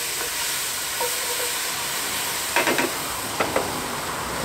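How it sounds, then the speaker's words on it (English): Thai Panang curry simmering in a pot on a camp stove outdoors, a steady broad hiss and sizzle with a few faint clinks and stirring taps, heard close and alone. "let that simmer away for 12 minutes"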